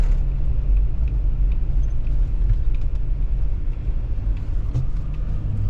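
A CAT 308E excavator diesel engine idles and warms up after a cold start in early winter, a steady, loud, low rumbling drone that continues unchanged with no speech.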